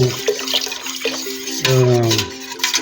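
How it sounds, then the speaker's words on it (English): Vegetable broth poured into a pot on very low heat, a steady liquid splash and trickle with a voice speaking over it. "you start adding your broth"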